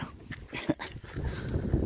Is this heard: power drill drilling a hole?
no